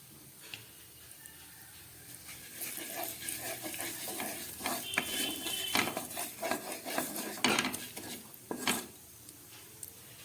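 Asafoetida, black cumin and fennel seeds sizzle in hot oil in a wok while a spoon stirs and scrapes, a steady frying hiss broken by clinks and scrapes of metal against the pan.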